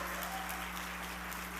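Church congregation applauding during a sermon, a steady wash of clapping held at an even level throughout, with a low hum beneath.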